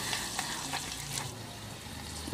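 Beans fry in a pan for a no-onion veg pulao, giving a faint, even crackling sizzle with light stirring over a short stretch.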